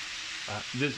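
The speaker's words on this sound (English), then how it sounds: "He's frying hamburger okay." Hamburger sizzles steadily in a hot pan, a constant close hiss, with a couple of brief voice-like murmurs near the end.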